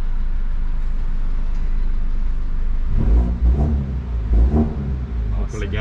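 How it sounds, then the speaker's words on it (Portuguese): A BMW engine revs up into a deep, loud roar after a quieter idling stretch, with repeated throttle blips building rumbling bursts while people talk nearby. "Ronco legal, né? Cara, o ronco é massa, cara."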